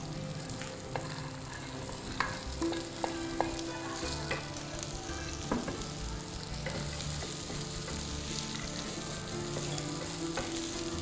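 Vegetables frying in a pan for a quick iftar dish, a steady loud sizzle with intermittent clicks and scrapes of stirring throughout.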